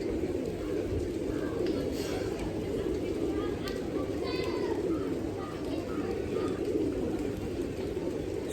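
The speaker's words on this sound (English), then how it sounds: "with plenty of pigeons, the emblems of peace, feeding themselves hungrily in the background" Pigeons coo repeatedly in a busy outdoor spot in Nepal, soft low calls rising over a constant crowd murmur with distant voices and children in the background.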